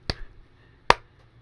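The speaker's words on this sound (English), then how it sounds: "Slow clap." Two sharp, isolated hand claps about a second apart, close and crisp, with quiet room tone between them and no talking.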